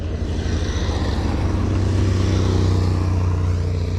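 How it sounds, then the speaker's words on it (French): A loud, continuous roar of engines rushes past nearby on Mont Ventoux, a steady droning rumble of several motorcycles going by with no break. "Voilà, les motos sont passées."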